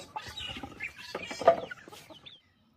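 Native country chickens on a farm raised in a simple hut-style coop, giving several close, irregular clucks and short calls that die away into quiet near the end.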